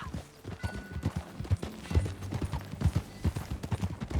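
Horse hooves clip-clop at a steady walking rhythm on a dirt path in the Western video game Red Dead Redemption 2, close and clear with no talking over them.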